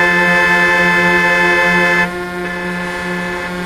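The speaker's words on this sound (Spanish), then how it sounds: "Tocarle el claxon para joderle más." A truck horn in Euro Truck Simulator 2 blaring as one loud, sustained, steady tone that holds for about two seconds before dropping slightly in level and continuing.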